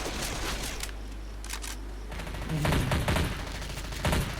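Gunfire from a computer-controlled bot teammate in the zombie shooter Left 4 Dead 2. A dense rapid volley of shots sounds at moderate distance under a steady game-ambience bed, and the burst grows louder in the second half.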